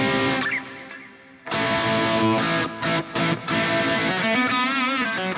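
A high-gain guitar amp tone with the Fulltone drive pedal switched off, played through a Harley Benton DNAfx Git pro with ML SoundLab IR and a Fusion 3 HSH guitar; loud sustained distorted chords and notes, dense and steady.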